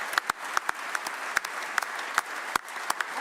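Audience at a State of the State address claps as people rise to their feet, sparse scattered handclaps popping out over a low background murmur.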